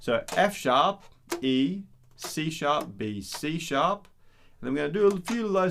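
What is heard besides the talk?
No distinct noise like a dog, phone or traffic.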